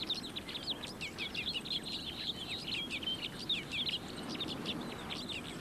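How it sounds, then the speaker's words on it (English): A flock of crossbills calls in a conifer forest, many rapid high chirps overlapping continuously over a low rumbling background. "Huge flocks of hungry crossbills arrive from as far away as Russia."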